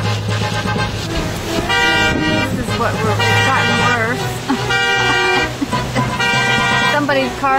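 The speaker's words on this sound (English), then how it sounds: "Somebody's car horn's still going off." A car horn blaring repeatedly in long honks over roaring wind and storm noise on a mountain road, with people talking excitedly throughout.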